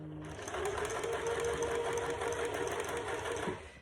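A sewing machine runs steadily, stitching piping onto the top panel of a box cushion, a continuous close whirring hum that holds for several seconds before slowing at the end.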